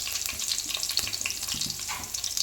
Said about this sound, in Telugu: జీలకర్ర, ఆవాలు మంచిగా వేగిపోయాయి కదా. ఇప్పుడు దీంట్లోనే పచ్చిమిర్చి వేసాం కదా. అది కొంచెం వేగగానే